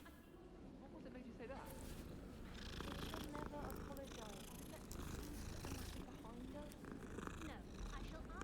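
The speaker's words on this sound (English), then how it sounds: "Hey, there's a cat." A cat purring in the video game Hogwarts Legacy, a steady low rumble running throughout under continuous game music, effects and a talking player.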